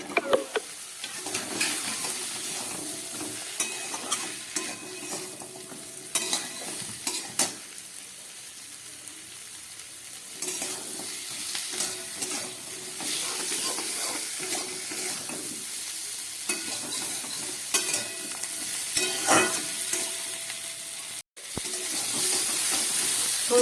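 Tomato pieces and cut drumsticks stirred into a frying Bengali fish curry with potatoes, a continuous loud sizzle and hiss with scraping stirs and occasional pan clatter, no talking.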